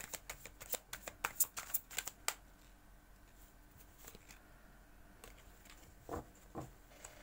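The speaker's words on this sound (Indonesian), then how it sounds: "Kita lanjutkan menebar kartunya." Tarot cards are spread out on a surface, a burst of sharp close flicks and snaps in quick succession, then quiet soft shuffling and a few more light slaps toward the end, with no talking.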